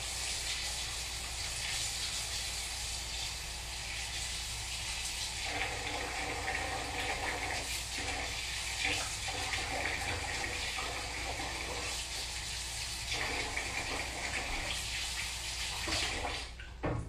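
Water runs steadily from a tap into a pot while cooking Nigerian jollof rice, a continuous loud hissing gush that shifts slightly in tone through the stretch, with no talking.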